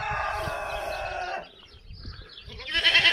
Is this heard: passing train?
no